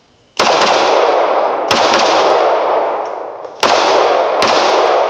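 A Springfield Armory TRP 1911 .45 ACP pistol fires four loud, sharp shots in two rough pairs at close range, each blast trailing a long echoing wash, with no talk.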